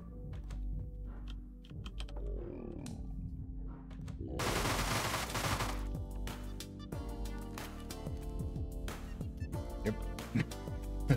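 Submachine gun bursts in the zombie action game Dead Rising 2, rapid rattling volleys mixed with thuds and game sound, a dense burst of fire around the middle, no talking.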